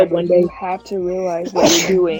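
A single sharp sneeze bursts out near the end, loud and close, right after a person speaking in a conversational voice.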